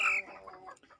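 A spotted hen in a poultry coop at night gives one short, close cluck that trails off into quiet fowl murmuring.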